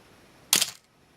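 A Canon AE-1 35mm film SLR fires its shutter on the self-timer, a single crisp mechanical click-clack, close and sharp, against near silence.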